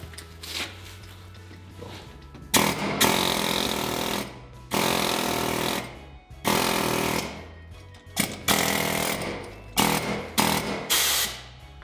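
A pneumatic tool chisels old mortar out of brick joints during repointing, loud rattling bursts of a few seconds each, starting and stopping repeatedly with short quiet gaps between them.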